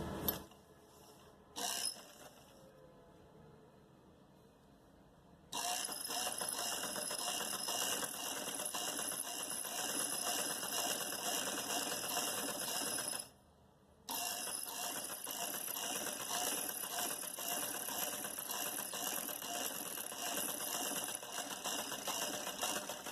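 A sewing machine stitching a strip of poncho fabric, a fast steady mechanical whirring and clatter that starts, pauses briefly, runs long and continuous, stops for a moment, then resumes, with no voices.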